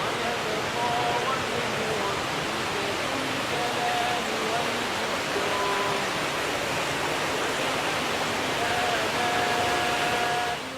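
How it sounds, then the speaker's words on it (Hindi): Water pours steadily through a water feature in a mosque courtyard, a broad, continuous rushing hiss close by with no pauses, and faint scattered tones sit beneath it. "जो पानी का जो शोर आ रहा है।"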